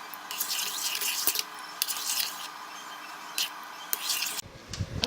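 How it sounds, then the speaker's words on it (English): A spoon stirs pumpkin soup with sour cream, giving soft wet swishes and a few light clinks against the pot, fairly close, with a brief louder scrape near the end. "And then we gonna stir it."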